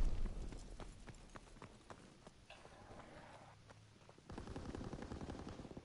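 Automatic gunfire from the Airborne gun in a first-person shooter game, with heavy recoil: quick close bursts of sharp shots, a pause, then a denser run of rapid fire toward the end.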